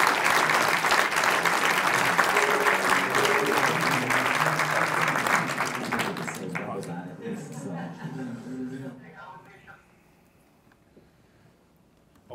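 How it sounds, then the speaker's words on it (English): Audience at a startup pitch event breaks into loud, sustained clapping that fades out after about nine seconds, leaving near quiet at the end; a few chuckles mix in under the applause. "Let's give it a round of applause"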